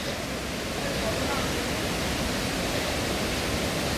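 Water falling at Devkund beside a temple produces a dense, constant roar of broadband rushing noise, steady and fairly loud throughout, heard at close range.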